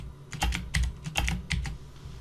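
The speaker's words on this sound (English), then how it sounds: "So I'm just typing an ABC here as an example." Typing on a computer keyboard at a desk, a quick run of about a dozen close, crisp key clicks in short irregular bursts, heard alone with no voice.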